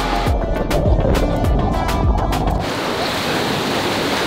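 Wave pool waves at a water park surge and wash loudly and continuously, with rhythmic thumping early on before settling into a steady rushing roar.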